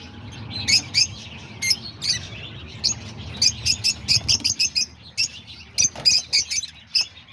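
Lovebirds chirping in an aviary, a busy run of sharp, high, repeated tweets from several birds, close and lively, over a low background rumble.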